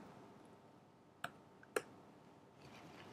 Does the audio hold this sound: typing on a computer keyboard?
yes